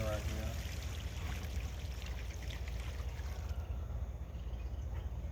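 Old fuel contaminated with water pours out of the tank of a Troy-Bilt Pony riding mower, a steady close splashing stream that runs without a break, with a voice briefly audible.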